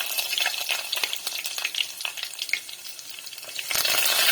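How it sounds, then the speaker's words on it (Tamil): Vadagam dropped into hot oil for tempering a fish head curry, a loud close crackling sizzle with popping bursts that swells into a dense hiss near the end, with no talk. "வடகம் கொஞ்சம் சேர்த்துக்கலாம் தாளிப்பு வடகம்"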